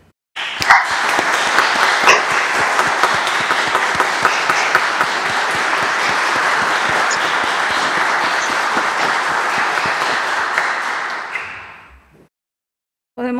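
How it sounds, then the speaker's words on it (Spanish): Sustained, loud audience applause fills a Supreme Court swearing-in ceremony for new lawyers, a dense, even roar of many hands lasting around eleven seconds before fading out into near silence. "Aplaudamos este logro."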